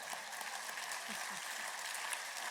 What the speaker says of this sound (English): You could applaud, I don't mind that.